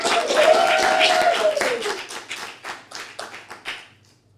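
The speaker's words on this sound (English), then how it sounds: "Everybody, please give a round of applause for A Megalopolis Christmas Carol." An audience claps for a Christmas special stage performance. The applause is dense at first and thins into scattered, fading claps that stop after a few seconds.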